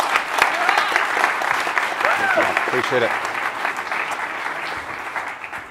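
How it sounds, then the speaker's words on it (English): Steady audience applause at a leadership forum fills the whole clip, dense and sustained, with someone briefly speaking over it near the middle. "give a round of applause"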